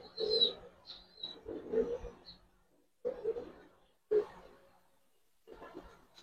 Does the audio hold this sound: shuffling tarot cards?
no